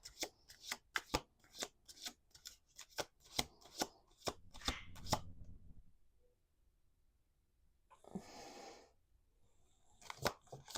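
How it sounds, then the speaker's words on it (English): A deck of cards is shuffled in a run of quick crisp riffles, then a pause and another short burst of shuffling, close up and quiet. "2 more shuffles. We got 3 on the table."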